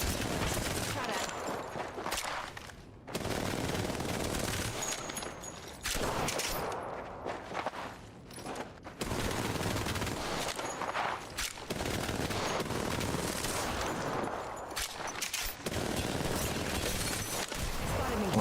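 Bursts of automatic gunfire from the Apex Legends video game rattle in repeated fusillades across the stretch, loud and dense, with brief gaps between volleys.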